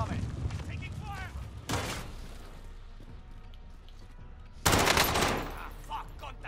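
Call of Duty Rebirth Island gunfire crackles in two sharp, loud bursts over a steady game soundscape, with voices talking through the clip.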